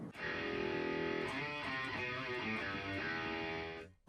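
A soft electric guitar chord through a BOSS Katana MK2 amp's reverb rings out through a wash of reverb, notes blurring and sustaining before fading away.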